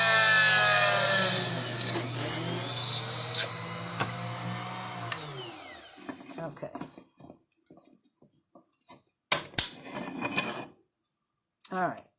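A drill boring through copper tube clamped in a vise, a loud, whining grind for about six seconds that stops abruptly, followed by scattered clinks and taps of metal and tools.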